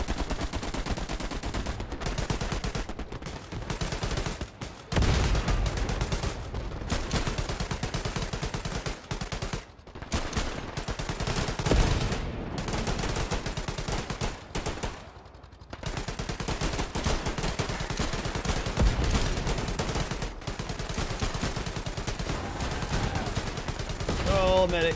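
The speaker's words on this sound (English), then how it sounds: "I've just spawned into the sound of non-stop machine gun fire" Sustained machine gun and rifle fire in a World War 2 battle in the game Hell Let Loose, loud and near, with bursts rattling almost without pause for the whole stretch and a few brief lulls.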